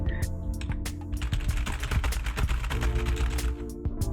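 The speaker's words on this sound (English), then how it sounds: "how fast you can mash your keyboard" Rapid, dense keyboard mashing on a computer keyboard, with continuous fast clacking of keys at close range and no pauses for the whole stretch.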